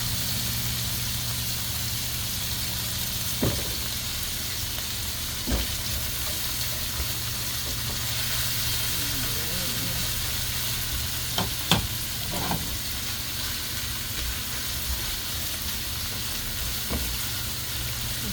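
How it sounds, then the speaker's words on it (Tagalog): Ground pork-style minced meat fries in a pan with onions for chop suey, a steady close sizzle broken by occasional light clinks and scrapes of a spatula, nobody speaking. "Konting fry pa ng ating giniling."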